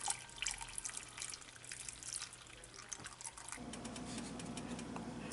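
Beef base broth pours into a stew pot with soft liquid splashing and dripping, fairly faint and close, the flow becoming fuller and steadier toward the end.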